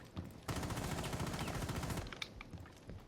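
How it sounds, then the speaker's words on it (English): Rapid automatic gunfire in Rainbow Six Siege aimed at a wall, a dense burst of close, loud shots for about a second and a half, then a few scattered follow-up sounds. "Honestly, just shoot at the wall for me real quick."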